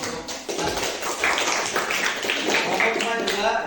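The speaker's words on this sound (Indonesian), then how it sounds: "Tepuk tangan untuk kelompok 4." Classroom of students clapping for group 4, a dense rapid patter of many hands that runs steadily for several seconds at moderate loudness, with voices faintly mixed in.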